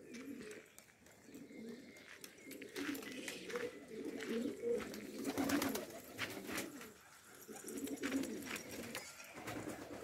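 Low, soft pigeon cooing repeats in steady rounds nearby in a garden, with a faint murmur of outdoor background noise.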